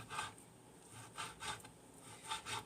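A knife chops cooked bacon finely on a cutting board, giving soft, scraping strokes in irregular bursts, faint and close, with no voices.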